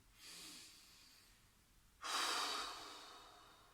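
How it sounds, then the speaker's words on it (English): Slow, deliberate human breathing at rest, a soft inhale followed by a louder, fuller exhale, close and alone with no talking. "be aware of our breath, focus on that outtake and the exhale, and actually hear what we're doing as well"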